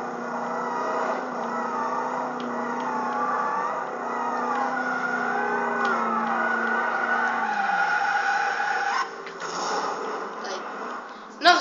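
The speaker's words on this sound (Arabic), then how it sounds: "بس يعني في شوية تفحيط وهجولة" Long wavering tire screech from a car drifting in the video game Driver San Francisco, loud and continuous with engine revving under it, breaking off near the end into a brief thud.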